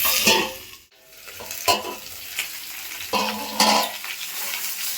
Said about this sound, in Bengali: আমি একসঙ্গে সব ভেজে নেব একটু ঢাকা দিয়ে দিচ্ছি